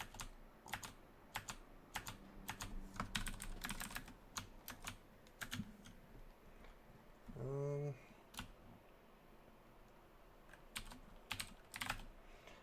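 Rapid keyboard key presses from play of Dungeon Crawl Stone Soup, a steady run of crisp individual taps spread across the whole stretch, close and moderately quiet, with a brief voiced sound midway.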